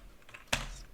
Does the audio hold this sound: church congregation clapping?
no